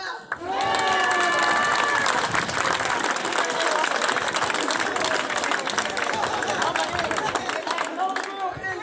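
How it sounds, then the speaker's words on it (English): A crowd claps and cheers loudly and steadily, a dense wash of applause that swells after an opening voice and holds for several seconds without fading. "Can I get my hand clap?"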